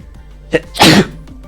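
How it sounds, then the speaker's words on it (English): A single loud, sharp sneeze bursts out close up, preceded by a quick inhale, in an otherwise quiet indoor room. "Oh, that sneeze."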